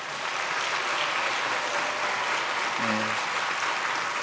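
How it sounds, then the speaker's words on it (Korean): A church congregation applauds at a Sunday worship service in one steady, dense wash of clapping, with a brief voice rising faintly through it near the end. "인사할 때 박수 한번 쳐주세요."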